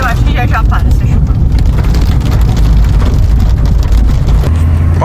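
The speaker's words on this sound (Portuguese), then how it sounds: "Passou, tava chovendo, ó." Rain falling on surfaces around a car on a camping trip in Fontanillas, a steady, dense hiss blended with low road and engine rumble, a voice briefly heard near the start.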